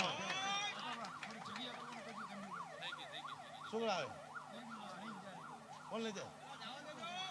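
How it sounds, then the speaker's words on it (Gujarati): An ambulance siren wails in a repeating up-and-down pattern, fairly distant, passing through the crowd at a Gujarati folk music event, over a murmur of voices and background noise. "જગ્યા કરજો, એમ્બ્યુલન્સ જાય છે."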